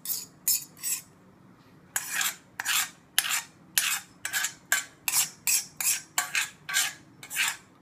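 Kosumalli salad is tossed with its tempering in a bowl, giving a quick series of close, rasping scrapes and stirs of a utensil against the bowl in a fairly regular rhythm, with no talk.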